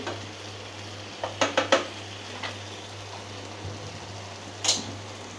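Coriander leaves are stirred into a frying egg curry, with a soft background sizzle and a few sharp utensil clinks against the pan.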